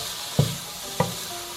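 Beetroot being sautéed with spice powders in a pan, with two distinct scraping stirs against a quiet low sizzle, close and fairly soft, no talking.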